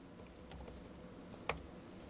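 Keystrokes on a MacBook Air keyboard as a password is entered: a few soft, scattered clicks with one sharper tap near the end, close and quiet with no talking.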